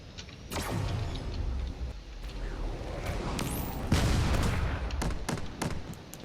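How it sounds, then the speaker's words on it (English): Dense, continuous gunfire and missile launches from fighter craft in a space combat game, a steady barrage of sharp cracks and booms filling the scene, with faint voices underneath. "This is a constant stream of bullets coming out trying to take out this carrier."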